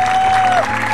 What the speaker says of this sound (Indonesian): Tepuk tangan dulu buat Sinyo dong.